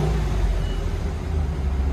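Stock exhaust of a 2022 Ram Power Wagon with the 6.4L HEMI V8, a deep steady low rumble close by, holding an even drone with no clear rise in revs.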